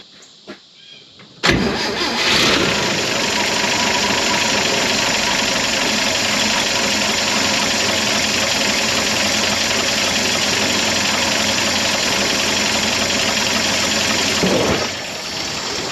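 A 1949 Chevrolet Advance Design truck engine catches and settles into a steady, loud idle running for about thirteen seconds, then cuts off abruptly near the end.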